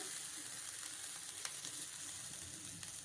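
Sautéed onions and roasted peanuts frying in a pan, a continuous soft sizzle and crackle with faint stirring, heard alone without talk.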